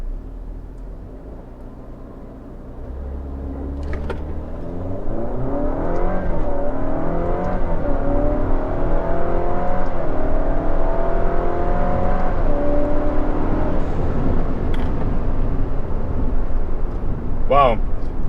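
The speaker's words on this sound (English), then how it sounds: "that was quite a good bit of acceleration" A 2017 Alfa Romeo Giulia Super sedan pulls away hard from a standstill after a brake boost, its engine note climbing through successive gears in a loud, rising rev sweep heard from inside the cabin.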